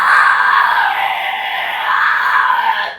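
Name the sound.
vocal fry scream demonstrated by a vocalist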